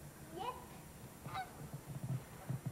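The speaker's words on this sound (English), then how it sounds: "Here's some geese flying over on our house." Several geese honk as they fly over a house, two clear rising calls early on followed by quieter, lower honks, moderately distant and faint with no talking.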